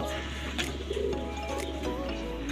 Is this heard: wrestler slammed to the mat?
no